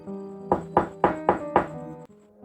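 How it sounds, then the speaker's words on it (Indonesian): Five firm knocks pound on a house door late at night, evenly spaced about a quarter second apart, close and loud over a low steady hum, then stop. "Ketukan pintu terus digedor karena istrinya telah tidur."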